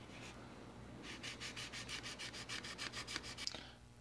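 Rapid back-and-forth sanding strokes rub over putty on the dorsal spine of a 1/48 Zoukei-Mura F-4G Wild Weasel plastic model kit, about a dozen close, rhythmic scratchy passes that stop abruptly.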